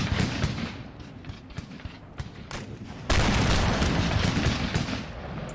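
Cannons fire canister shot in Empire: Total War, a rattle of scattered booms that breaks into a loud, sustained roar of volley fire partway through.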